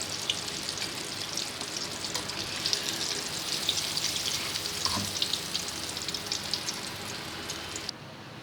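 Spicy broast chicken deep-fries in hot oil, giving a continuous dense crackling sizzle with scattered pops, moderately loud and steady, with a brief clunk near the end and no talking.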